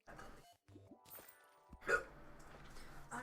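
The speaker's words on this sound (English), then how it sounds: "Oh no. Excuse me, I hiccup." A single sudden hiccup rises out of a quiet stretch, close and fairly loud, with faint background sound around it.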